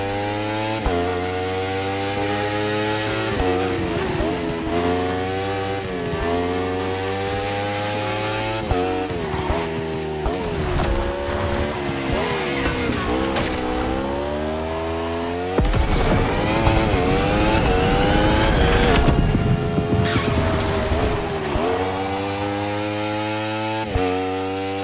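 A Red Bull KTM racing motorbike engine in a racing video game revs loudly and continuously for the whole stretch, pitch climbing and dropping through gear changes, with a brief surge near the end and no talk over it.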